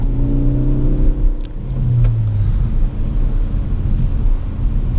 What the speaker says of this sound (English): this POV drive of the 2017 Ford Focus ST in snowy conditions